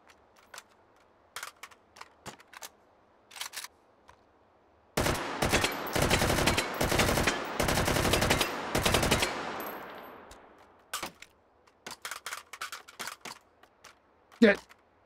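An AK rifle is reloaded in the VR game Hot Dogs, Horseshoes & Hand Grenades, with crisp mechanical clicks and clacks around a long, loud stretch of rapid automatic fire in the middle.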